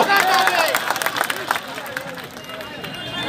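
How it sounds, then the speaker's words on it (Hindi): A large crowd at a political rally claps and cheers in a dense, loud burst of applause that gradually thins out, with hubbub and scattered voices mixed in. "ठोको ठोको ताली ठोको"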